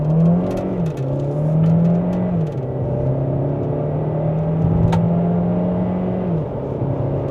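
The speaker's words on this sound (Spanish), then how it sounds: "Frenamos completamente y aceleramos a fondo." A Dongfeng Aeolus Huge pulls away at full throttle from a standstill, its engine droning and rising in pitch through gear changes, loud and close from inside the cabin.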